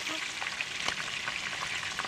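Cartoon deep-frying sound effect, a continuous bright crackling sizzle with dense popping, fairly quiet and heard alone for about two seconds.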